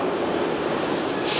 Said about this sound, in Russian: А вот и поезд нашего направления.